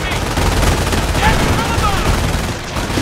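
Gunfire in the World War II strategy game Company of Heroes, a dense, loud, continuous rattle of shots under a busy battle din, with voices mixed in.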